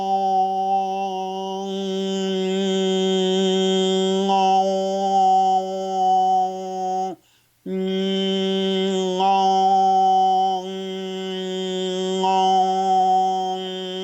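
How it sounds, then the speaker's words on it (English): A man hums overtone singing through his nose, holding a steady, buzzing tone. A high whistling overtone rises and shifts above it as he moves back and forth between one and two tones. The sound is close and loud, with a brief breath pause midway. "I'm going to start with one tone through the nose, and then I'm going to go to two tones."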